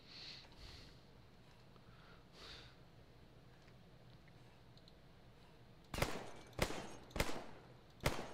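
A .45 pistol fired in the military shooter game Arma 3, four sharp, loud shots spaced roughly half a second apart, each standing out against a quiet, faintly hissing background.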